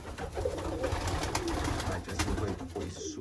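Pigeons coo softly in a breeding loft where most birds sit on plastic eggs, a steady low murmur of calls from several birds close by.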